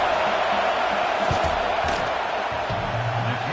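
Steady roar of a stadium crowd in College Football 26 during a South Carolina vs Tennessee game, heard as a broad continuous wash with a few thumps and scattered shouts.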